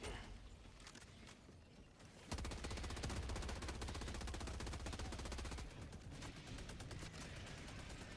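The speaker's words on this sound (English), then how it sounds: "Machine gun sentry going to pick up some of the smaller enemies" Machine gun sentry in Helldivers 2 opens up in rapid, sustained automatic bursts after a quieter start, loud and close, with fast rhythmic gunfire continuing to the end.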